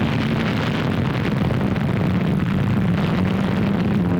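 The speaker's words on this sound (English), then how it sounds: "there rose every plane that could fly, new or old, from the very heart of Japan itself" Japanese propeller warplanes flying overhead in a loud, continuous droning roar of piston engines, dense and unbroken for the whole span.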